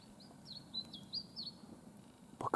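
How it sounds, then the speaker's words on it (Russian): Small songbirds chirp and whistle in a quiet taiga forest in May, a series of short, high, sweeping calls at moderate distance, ending with a couple of louder, sharper notes close by. "Слышите, птицы поют, в общем."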